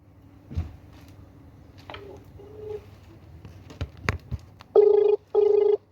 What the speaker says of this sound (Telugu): ఒక్కసారి మనం జనసేన పార్టీ నేతకి కాల్ చేద్దాం.